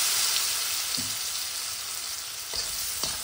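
A spiced mixture for ragi chivda sizzles softly in a pan while a spoon stirs it. A few brief scraping strokes cut through the faint, steady hiss, with no talking.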